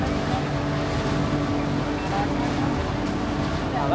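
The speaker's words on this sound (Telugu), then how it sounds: "This is our boat." A motorboat engine drones steadily and loudly throughout on a river boat ride, a continuous low rumble mixed with wind and water noise.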